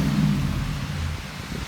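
A 2005 Dodge Ram 1500 with a 5.7 HEMI V8 and a Magnaflow-style muffler idles with a deep, smooth, low rumble. The exhaust is steady and fairly close.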